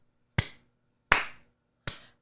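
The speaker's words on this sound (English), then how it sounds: "slow fucking hand clap for Stabler" A slow hand clap: three single, sharp claps spaced about three quarters of a second apart, each ringing briefly into quiet with no talk.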